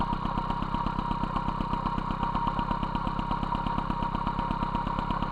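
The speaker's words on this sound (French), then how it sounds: "Le régime ralenti c'est pas bon." An MBK 51 moped engine with a 15 PHBG carburetor idles steadily while the carburetor is adjusted, a close, loud, even rapid putter that runs continuously with no talk.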